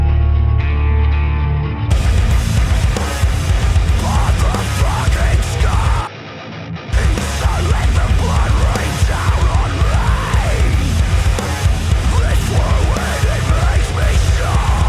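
Electric guitar played in stereo through a guitar interface plays in a dense, full mix, loud and continuous, with a short drop in level midway before resuming.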